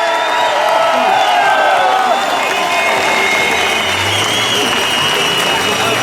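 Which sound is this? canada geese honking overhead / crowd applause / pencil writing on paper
crowd applause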